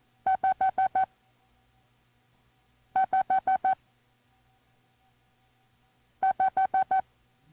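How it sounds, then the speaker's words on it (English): Groups of five short, clean, evenly spaced beeping tones, each group sounding the number five in Morse code, repeat three times with silence in between, crisp and alone, from a 1990 novice radio class cassette. "guess how many dits stand for 5? That's right, 5 dits."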